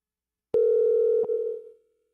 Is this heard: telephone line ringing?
yes